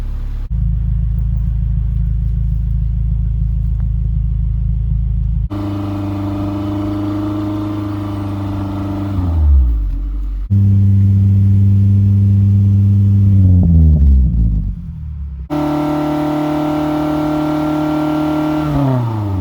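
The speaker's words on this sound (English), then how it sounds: "We're going to use my friend Mike's TC to get a baseline." A Scion tC on its stock exhaust idles with a low, heavy drone, then is revved in three separate bursts that climb sharply and drop back each time. The engine is close and loud, with no talking.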